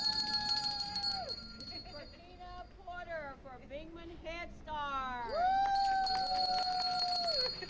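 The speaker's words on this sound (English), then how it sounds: "Several applicants were able to ring the bell after being hired on the spot at Beaumont ISD's job fair" Newly hired applicants at the Beaumont ISD job fair at Westbrook High ring a bell, giving bright sustained ringing tones under a person talking.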